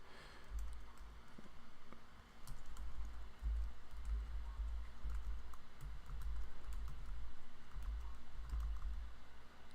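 Rapid, continuous keystrokes on a computer keyboard clatter up close for about ten seconds, an uneven patter of taps with no one speaking.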